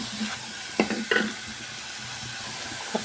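Chopped onions being stirred as they fry in a pan for an onion-and-tomato chicken curry, giving a soft continuous sizzle with a few brief scraping stirs, no talk.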